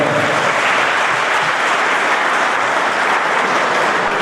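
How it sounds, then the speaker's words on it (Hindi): Loud, dense applause from an audience in a police training school auditorium during a constable training cultural program, continuous clapping with no break for the whole stretch. "अपने तालियों की गड़गड़ाहट से श्रीमान का स्वागत करें"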